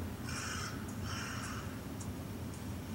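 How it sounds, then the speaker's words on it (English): Crows caw in the horror adventure game The Last Door, two long harsh calls followed by a few short distant caws over a low steady ambient drone. "That's just the crows."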